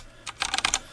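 Keys pressed on a LEOBOG K23 budget mechanical keyboard, giving about five quick clicky keystrokes in an uneven burst, close and fairly crisp, with no talking.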